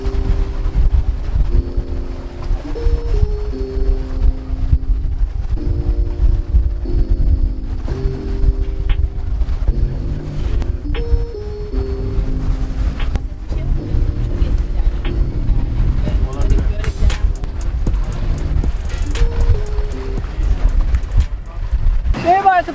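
A motorboat heads across the open Aegean toward the Greek island of Symi, its engine droning low and steady under strong wind buffeting the microphone, with people speaking over the noise.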